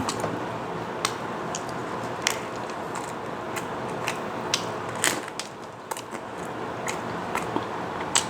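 Someone bites and chews thin, crispy salmon and pickled olive pizza up close, giving sharp crunchy cracks and clicks at an irregular rhythm against a low background hum.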